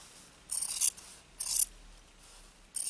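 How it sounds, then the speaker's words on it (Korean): Scissors snip through the fabric seam allowance of a garment seam in three separate bursts of crisp, rasping cuts, close by and alone with no talk, spaced roughly a second apart. "가위로 하나만 자를게요"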